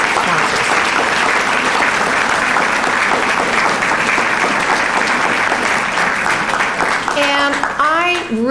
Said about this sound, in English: So please help me in applause